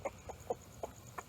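Backyard hens cluck in a short series of five or six distinct close clucks spaced irregularly, with a faint steady background hum.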